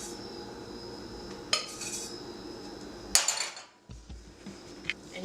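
A mixture patted down into a greased Tupperware-style container, giving a few soft dull taps and a louder clack of utensil against the container over a faint steady background hiss.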